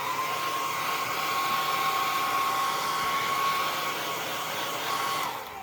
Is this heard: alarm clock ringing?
no